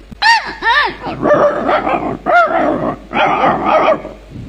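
A voice imitates a dog barking and yelping, a series of loud, close, pitched barks and whimpering yips in quick bursts, performed as mimicry in a Tamil folk story about a fox stepping on a sleeping dog.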